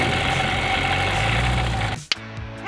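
A new Rotax 915 engine on a light aircraft runs at a steady drone with a buzzing hum, then abruptly cuts off before a brief restart-like rumble at the end.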